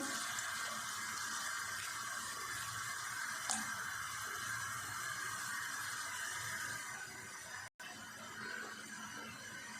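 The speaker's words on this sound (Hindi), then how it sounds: "पानी में बॉईल आ गया, अब हम इसमें चावल ऐड कर देंगे।" Water bubbles and hisses steadily in a pot, with a brief clink and a short gap as rice is poured in for biryani; no voices heard.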